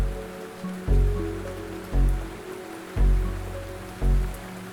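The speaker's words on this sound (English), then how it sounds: "Well, it didn't stop raining. In fact, it was relentless all day and into the evening." Heavy, relentless rain at a lake during carp fishing, a steady close wash with a dull thud recurring about once a second, as if drops were striking a tarp or shelter.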